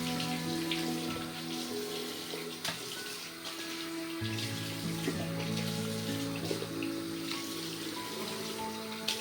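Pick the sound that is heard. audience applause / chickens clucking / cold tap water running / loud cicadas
cold tap water running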